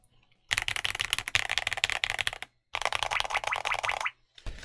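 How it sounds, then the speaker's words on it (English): Rapid clattering keystrokes on a YUNZII x KZZI Z98 Pro mechanical keyboard in two dense bursts with a brief pause between, close and crisp, then a final few clicks. "I like how this keyboard sounds out of the box"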